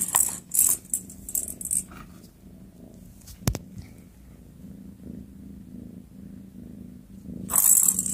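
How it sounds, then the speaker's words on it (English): A cat purring steadily up close, a low continuous rumble with a few brief rattling and jingling noises at the start and end. "Beautiful purring."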